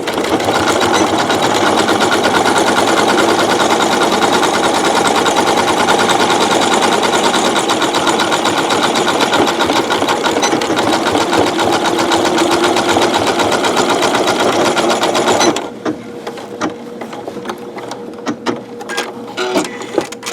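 A sewing machine zigzag-stitches a two-colour braided rope bowl, running loud and fast as a continuous mechanical chatter for about fifteen seconds, then stopping abruptly. A few faint clicks and handling sounds follow.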